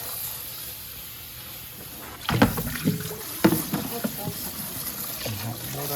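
Water sprays onto a cat litter tray being cleaned, a hissing, splashing rush that starts partway through and continues in uneven surges, with a person talking nearby.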